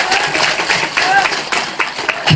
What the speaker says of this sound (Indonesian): Tepuk tangan dulu nggak apa-apa